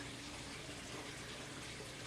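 Tomato plant roots rinsed in water to wash off soil, for Creole tomatoes going into hydroponic net cups; a steady, close splashing wash like running tap water, continuous throughout with no talking.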